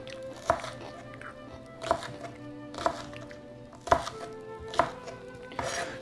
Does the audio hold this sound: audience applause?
no